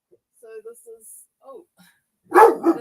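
A dog in a home gives a couple of short, close barks and yips near the end, after a stretch of soft, faint sounds.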